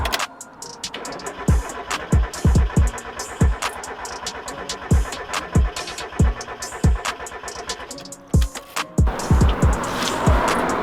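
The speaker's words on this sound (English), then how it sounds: "we're going to crank it over for a few seconds to relieve the fuel pressure" A Mazda RX8 rotary engine cranks over on the starter without firing, a whirring rhythmic churn of repeated pulses lasting several seconds, heard up close.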